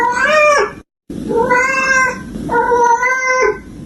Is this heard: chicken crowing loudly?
no